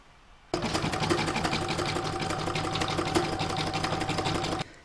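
Embroidery sewing machine stitching a design in the hoop for a lined Santa bag, a steady dense mechanical whir that starts abruptly and runs loud and continuous for about four seconds before stopping.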